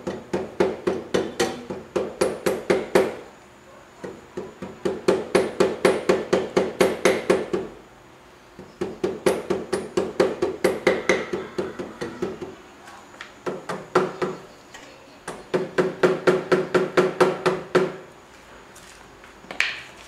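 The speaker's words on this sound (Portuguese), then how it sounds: "vou pegar o martelinho de borracha e vou dar uma sentada" Rapid bursts of sharp taps from a rubber mallet seating a rear shock absorber on a Yamaha XV 250 Virago motorcycle, close by, in four runs of quick strikes separated by short pauses, with a faint ringing tone.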